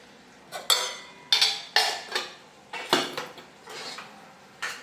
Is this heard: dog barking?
no